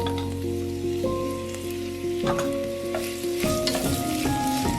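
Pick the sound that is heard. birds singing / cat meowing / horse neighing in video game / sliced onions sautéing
sliced onions sautéing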